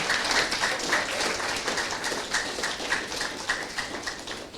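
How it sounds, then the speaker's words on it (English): A warm round of applause for new citizens at an Australian citizenship ceremony, a steady crowd clapping throughout that eases slightly toward the end. "I now invite you all to offer A warm round of applause for our newer citizens"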